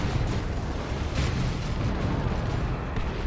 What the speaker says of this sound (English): Where did that melter bomb come from?